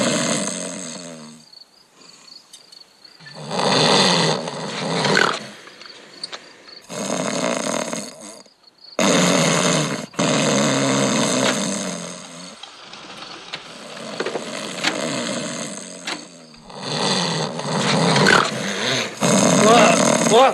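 Snoring played back from a tape recording, loud rasping snore bursts that repeat in long uneven cycles with quiet pauses between them, close and prominent.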